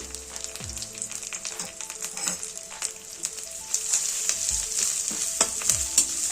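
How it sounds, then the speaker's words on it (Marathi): A tempering of curry leaves, asafoetida and turmeric sizzles steadily in hot oil, a dense, continuous crackle that grows louder in the second half, with no voices. "आता ही फोडणी छान खमंग झाली"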